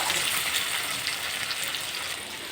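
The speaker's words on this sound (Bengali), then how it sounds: "আর একটু ভেজে নেব।" Potatoes, onions and chopped tomatoes fry together in a pan, giving a steady, moderate sizzle that runs throughout with no talking.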